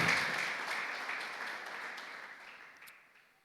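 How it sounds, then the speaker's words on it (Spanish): Church congregation applauding during a Spanish-language sermon, a broad wash of clapping that starts full and gradually fades away over a few seconds, with no voices standing out. "Dale un aplauso al Señor."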